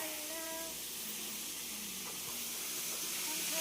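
Heavy rain pours outside a house while cooking goes on indoors, a dense steady hiss filling the background throughout with faint household tones over it.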